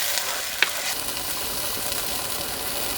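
Ginger, garlic and green chilli paste fries in a pan with a steady broadband sizzle, close and fairly quiet, with one small sharp clink of the stirring utensil.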